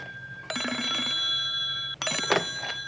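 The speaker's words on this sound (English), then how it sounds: "Wendell, your phone is ringing." Telephone bell rings in a 1989 sci-fi horror film scene, one long electronic ring followed by a second burst, moderately loud and alone.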